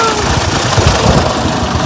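A farm tractor engine runs steadily nearby, a loud continuous rumbling drone with no break in it.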